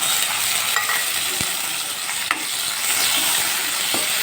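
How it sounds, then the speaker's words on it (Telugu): Ginger paste and chopped tomato fry in a pan for a soya chunk pulao, a loud, even sizzle running throughout with a few soft clicks of a stirring spoon, close up and without any talking. "కొద్దిగా అల్లం పేస్ట్ అలానే టమోటో వేసి బాగా మగ్గించుకోవాలి"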